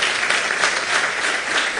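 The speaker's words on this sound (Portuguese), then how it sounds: "Ameaçou palma, ficou meio tímida" A brief burst of hesitant applause from the audience at a Paraty photography festival interview, dense clapping at moderate loudness that stays short.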